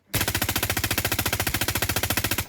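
Fast-firing 5.56 automatic rifle in a video game, a loud, close, unbroken burst of rapid, evenly spaced shots lasting a couple of seconds with no talk.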